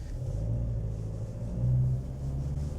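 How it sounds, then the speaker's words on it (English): A Toyota Prado Kakadu grinds up an off-road hill in four-wheel drive low range, its engine a low, steady rumble heard from inside the cabin, fairly faint and without talk. "let's go back up the hill and engage four-wheel drive low range"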